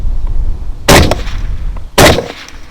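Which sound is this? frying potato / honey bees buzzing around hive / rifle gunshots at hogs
rifle gunshots at hogs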